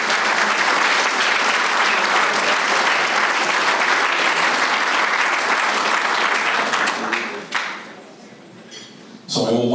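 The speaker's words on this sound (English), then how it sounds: "One more round of applause, please, for Ms. Tracy Murray." A large audience applauds loudly and steadily at a civic State of the Cities event, sustained clapping that fades near the end before a short final burst.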